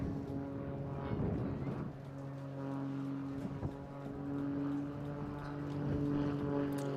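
A Tutor light aircraft makes a departing pass at the Eastbourne International Airshow, its propeller engine a sustained droning hum that swells and fades slightly as it flies around, heard from a distance with open-air ambience.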